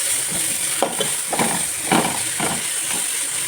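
Onions sautéing in a pan for Kozhikode biryani, a steady hiss and sizzle with repeated soft stirring scrapes at a regular rhythm, close and moderately loud, with no talking.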